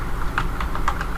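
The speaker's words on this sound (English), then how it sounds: "now I can begin typing" Keystrokes typed on a computer keyboard into a text box in Excel, a quick irregular run of light clicks, close and clear with no talk.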